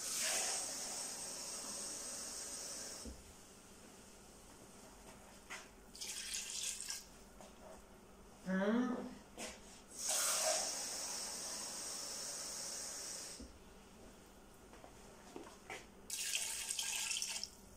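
Water from large glasses is poured into a cooking pot for beef and carrots, a hissing, splashing run of liquid in several bursts with quieter pauses and a few clinks between.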